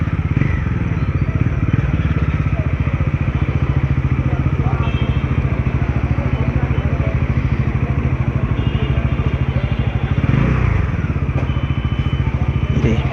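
A Bajaj Pulsar NS400Z motorcycle being ridden gives a steady, close engine drone with constant wind rush that holds level throughout the ride.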